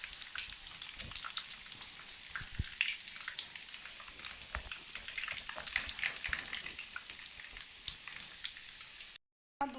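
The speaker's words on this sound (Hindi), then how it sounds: "अब 2 मिनट दूसरी साइड से पकाएंगे, पका के निकाल लेंगे" Beef-stuffed potato kababs frying in a pan in a home kitchen, a steady soft sizzle and crackle of oil with scattered pops, quiet and close, continuing without talk.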